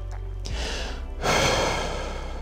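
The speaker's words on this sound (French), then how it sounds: "on souffle, on inspire encore" Deep exercise breathing during an adapted physical activity session: a soft inhale followed by a long, louder, breathy exhale, close to the microphone, alone without talk.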